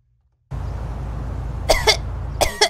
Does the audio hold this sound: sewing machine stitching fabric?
no